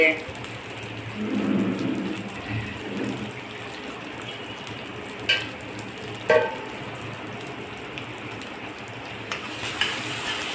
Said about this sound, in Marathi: अशा प्रकारे तुम्ही परतून घेऊ शकता तेल सुटेपर्यंत